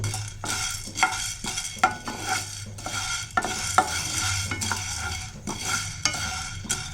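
Black peppercorns are dry-roasted in a pan, scraped and tossed by a stirring spoon in regular rhythmic strokes, with a faint crackle beneath the loud, close scraping.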